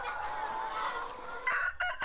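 Chickens on a free-range laying hen farm in Gimje, North Jeolla, with roosters crowing and hens clucking in a steady layered chorus that sounds close, and a few sharper calls near the end.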